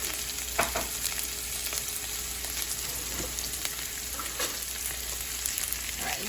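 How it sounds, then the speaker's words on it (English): Onions sautéing in coconut oil, a continuous close sizzle with occasional soft stirring taps and scrapes. "you want to make sure you saute that around a little bit. Make sure that the onions get nicely coated with the coconut oil"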